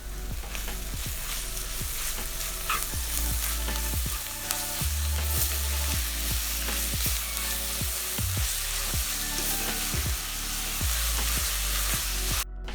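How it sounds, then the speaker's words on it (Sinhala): Seeni sambol fries in a pan after sugar is added, with a steady close sizzle and frequent clacking spoon strokes scraping and stirring the onion mixture. "දැන් සීනි මේස හැඳි 3ක් එකතු කරගෙන හොඳින් මිශ්‍ර කරගන්නවා."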